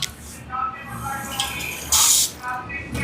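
Water is poured into a small cup for washing dishes in a home kitchen, splashing and trickling in short bursts with one louder gush near the end, while someone talks over it.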